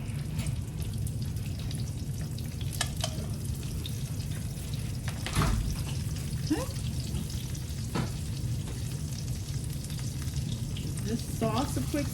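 Pork pieces for peanut pork fry in a pan with a steady, close sizzle throughout, broken by a few sharp clatters and the scrape of stirring.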